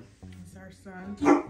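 A pet dog barks once, loud and close, right at the end, following a stretch of people talking in a home.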